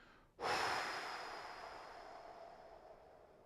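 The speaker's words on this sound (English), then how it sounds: "Then we do a long exhale." One long exhale through the mouth that starts abruptly, rushes out strongly, then slowly fades over a few seconds, heard close up with no speech.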